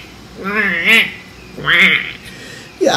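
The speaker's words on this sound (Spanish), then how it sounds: "para nuestro pato, utilizaremos el sonido del oboe" An oboe plays the duck's theme from Peter and the Wolf in two short lilting phrases separated by a pause, close and clear, with a nasal, reedy tone.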